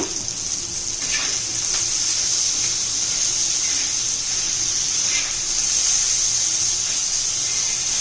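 Tomatoes and salt hit a hot pan for a dry egg curry and set off a loud, steady sizzling hiss. The hiss continues close and unbroken, with slight swells, and no one speaks.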